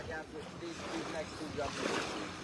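Boat engine running on the water at a freestyle waterski jumping competition in Nashville, a steady low droning hum with some water and wind noise, heard at moderate distance.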